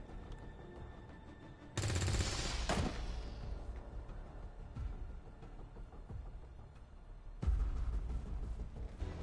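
Gunfire in the XCOM 2 video game: a loud rattling volley of shots that rings out and decays, a long tense pause with low ambience, then a second sharp burst.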